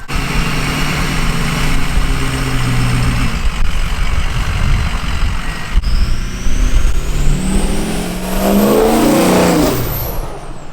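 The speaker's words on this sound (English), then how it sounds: "I'm gonna go ahead and drive down the road and just get like a pass video or whatever, so you guys can kind of hear what's going on" A 6.0L Power Stroke diesel truck fitted with a loud aftermarket turbo idles nearby, then builds into a rising engine roar and turbo whistle as it accelerates and passes close by, loud and alone without talk.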